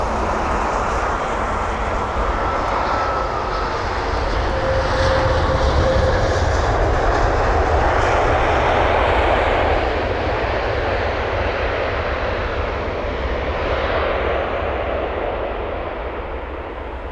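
A British Airways Airbus A380 at London Heathrow produces a loud, steady jet-engine roar throughout, swelling slightly in the middle and easing toward the end, with no voices.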